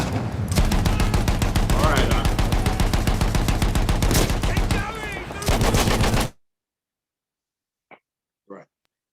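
Sustained machine gun fire, loud and close, rattling in rapid continuous bursts for about six seconds, then cutting off into silence broken by two short faint sounds.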